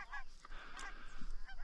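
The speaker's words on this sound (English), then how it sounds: "There's another flock of maybe ducks right there." A flock of ducks or geese over a wheat field during a waterfowl hunt, honking repeatedly at moderate distance, several calls overlapping in an irregular chorus.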